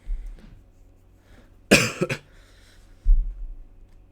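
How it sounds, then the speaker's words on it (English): A person who is ill coughs in short, sharp bursts, one harsh cough followed by a second after a pause, close to the microphone in an otherwise quiet room. "I got a bit of a cough, I got ill again"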